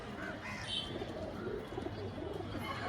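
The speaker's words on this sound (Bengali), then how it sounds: "চিনি পায়রার জোড়া" A pair of Chini pigeons coo softly and steadily in a brief, low murmur, with faint chirps and a quiet background, at a pigeon shop.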